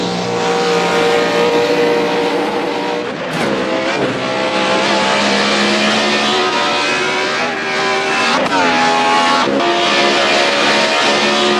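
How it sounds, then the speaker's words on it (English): A car engine revs loudly and continuously while the clutch slips, its whining drone rising and falling in pitch with brief dips, close and alone. "Clutch slip."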